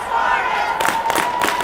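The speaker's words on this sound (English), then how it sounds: "There's a little bit of a half-hearted cheer by Hermantown coming out of that timeout." A hockey crowd at a Hermantown game gives a brief, half-hearted cheer after a timeout, with broad bursts of crowd noise rising over a steady arena hum.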